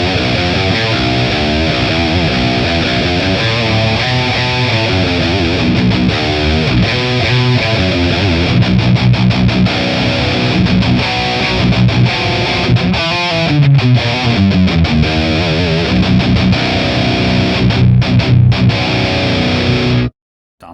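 A 7-string guitar played through a high-gain Tonex amp capture, thick distorted riffing with chugging rhythmic stops, loud and continuous for about twenty seconds before cutting off abruptly.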